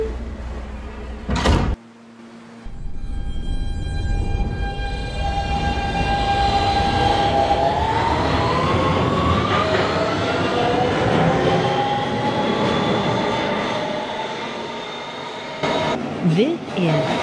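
A Kawasaki R160B subway train runs as a Manhattan-bound Q local in a Roblox game. A sharp door or chime sound comes first, then the motor's whine climbs steadily in pitch as the train accelerates, loud and sustained before fading, with a recorded voice briefly present.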